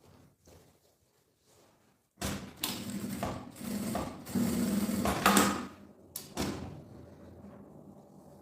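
A sewing machine backstitches a bag seam: loud, close bursts of rapid motor-driven stitching, with a brief stop and restart partway, then a final short run.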